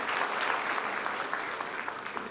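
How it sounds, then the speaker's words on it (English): An audience at an investment conference applauds a guest speaker with a steady wash of clapping, brief and fairly even, heard without talk. "We need to clap for our key guest, Dr. James Mwangi of Equity Bank."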